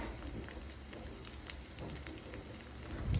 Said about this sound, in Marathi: फिश फ्राय करताना जो आवाज येतो ना